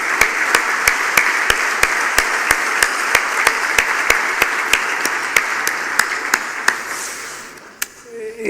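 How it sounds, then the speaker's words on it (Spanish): An audience at a conference on Uruguay's international context gives guest speakers a welcome with sustained applause. The clapping is even and loud, with evenly spaced sharp clicks throughout, and fades near the end. "le damos una bienvenida como corresponde, con un fuerte aplauso."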